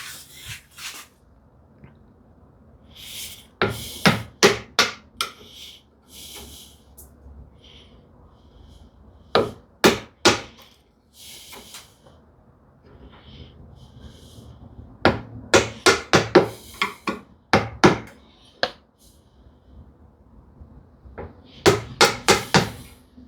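Chiselling out the waste of a half-lap dovetail in wood: clusters of sharp mallet blows on the chisel, three to six quick strikes at a time with pauses between them, close and crisp, with no voices.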